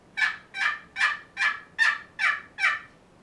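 A device imitating a turkey's gobble: seven quick, evenly spaced rattling bursts in a steady rhythm, loud and close.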